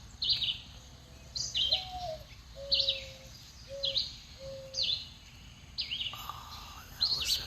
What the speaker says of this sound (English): Oh, that was the sound of an owl.